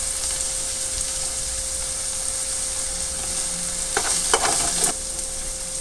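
Beetroot and carrot fry with dried chili powder sautéing in a pan, a steady close sizzle throughout with a few brief scraping stirs near the end.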